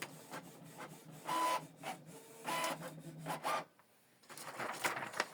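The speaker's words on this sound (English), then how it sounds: "This is the first page we printed out." A Canon PIXMA TS3450 inkjet printer running off a page, giving bursts of mechanical whirring and rasping feed noise with brief pauses, close by and moderately quiet, with no talking.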